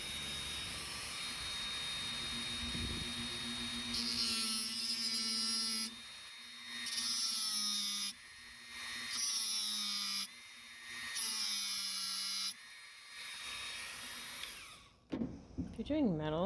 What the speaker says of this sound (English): sawing in with a Dremel a little groove across the head